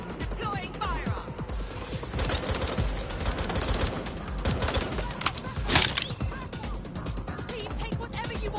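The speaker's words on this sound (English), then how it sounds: "Suspect is shooting!" Dense bursts of gunfire in the video game Watch Dogs: Legion, rapid automatic shots and scattered single cracks over about eight seconds, with a sharper loud burst near the end amid game ambience.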